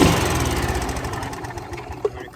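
A Club Car golf cart's small engine runs loud and steady close by, its rough, pulsing drone holding a constant pitch throughout.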